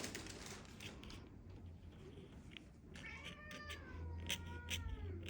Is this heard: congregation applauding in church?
no